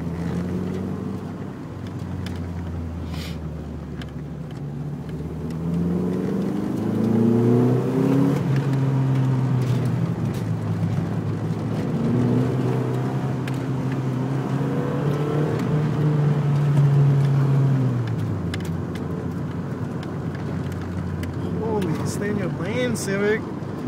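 A Nissan 240SX driving on Calaveras Road, its engine a steady low drone that rises and falls with throttle, close and continuous, with people talking over it throughout.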